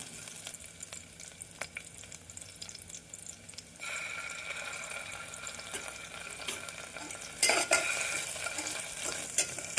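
Ginger-garlic paste sautéing with onions in a pan for mushroom curry, a soft sizzle with intermittent stirring scrapes that grow busier midway, fairly quiet and without talk.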